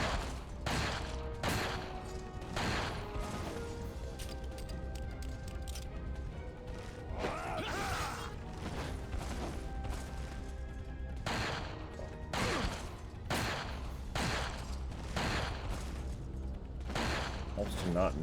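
Gunfire in the survival-horror game Resident Evil, with sharp loud cracks and bursts of shots spaced irregularly across the stretch over constant game ambience and music, while someone talks through it.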